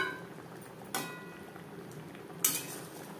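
Fried bele fish is mixed into a simmering mustard gravy, with two sharp metallic clinks of a utensil against the pan standing out over a quiet, low background.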